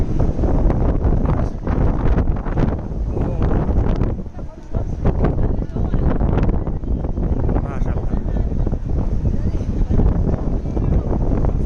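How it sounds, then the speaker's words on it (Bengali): A strong wind blows hard and continuously against the microphone, a loud, dense roar with gusty surges and a brief lull midway, while a person speaks. "বাতাস"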